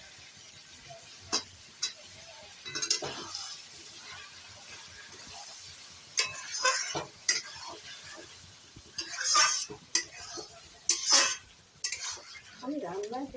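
A spoon scrapes and clinks against a pot while Shahi Mughal chicken sautés with cashew and almond paste, intermittent metallic taps over a low steady sizzle, close by.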